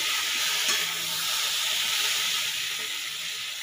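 Spice paste frying in a wok, a loud, even hissing sizzle held close throughout with only slight swells, no voices.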